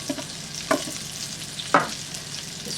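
Green chillies and dry spices frying in a pan while being stirred, with two distinct scraping strokes over a steady close sizzle.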